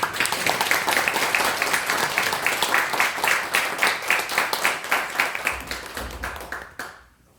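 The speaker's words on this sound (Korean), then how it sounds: "우리 주의자님과 우리 반주자님 그리고 성가대 모든 분들 위해서 다시 한번 뜨거운 감사의 박수" A church congregation gives warm applause for the choir, conductor and accompanist at a Sunday service, a dense sustained round of many hands clapping that fades out over the final second.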